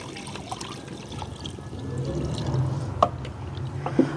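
About 2.5 litres of water is poured into a pot of lightly fried chicken for yakhni, a steady close splashing stream with a few sharper drips and splashes near the end, no talking.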